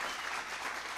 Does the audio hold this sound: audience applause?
yes